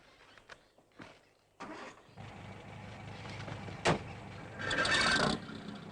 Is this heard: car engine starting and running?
yes